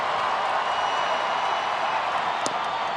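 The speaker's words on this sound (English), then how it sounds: "Crowd getting excited." A baseball stadium crowd at a major league game roars steadily in a dense, continuous wash of cheering, with one brief sharp accent near the end.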